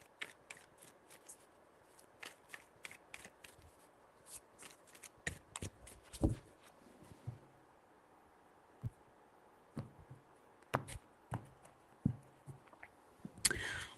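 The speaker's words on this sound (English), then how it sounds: "3 shuffles." A deck of tarot cards shuffled by hand up close, soft repeated snaps and riffles in irregular bursts, fairly quiet with no talking.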